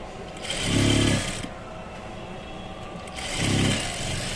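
Sewing machine stitching a blouse with a long stitch, two short loud bursts of running motor with a pause between, heard up close with no talk.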